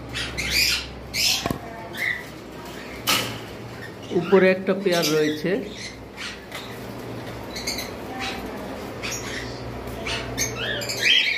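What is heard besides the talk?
cockatiel and lovebird birds calling in a bird shop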